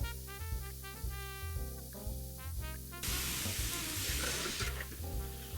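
Onions sizzle as they fry in a pan for a sauce, cooked over a fire in the woods. A soft, hissing sizzle rises midway, under a steady bed of tonal music.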